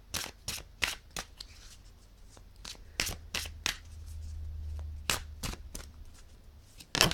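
Tarot cards are shuffled by hand for a reading, producing a quick, irregular run of crisp slaps and riffles close by over a faint low hum, with no voices.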